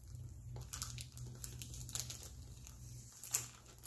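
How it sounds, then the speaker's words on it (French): Quiet crinkly tearing and crackling as adhesive tape is peeled off a diamond painting kit in short bursts, close up over a low steady hum. "Voilà, j'ai enlevé le scotch."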